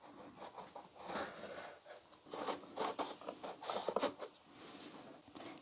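Cardboard box pieces being cut out with a blade for a handmade book nook shelf insert, giving a run of close, scratchy rasping and scraping strokes in uneven bursts with no talking.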